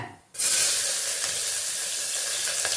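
Small onions dropped into hot oil with popped mustard seeds, while cooking a soya bean kurma, give a sudden loud sizzle that holds steady and close for the rest of the moment.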